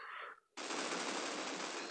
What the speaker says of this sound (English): I think they're shooting at me, actually.